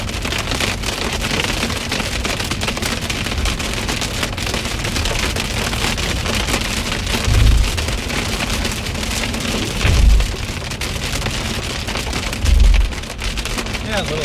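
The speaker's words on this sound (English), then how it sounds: "Very, very soft hailstones as well." Small soft hailstones falling in a storm near Calgary, a steady dense patter over everything with a few heavier low thumps, and voices heard at times.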